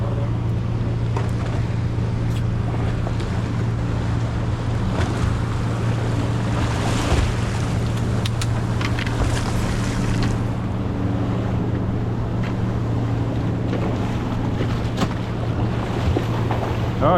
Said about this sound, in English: Oh, here's some waves.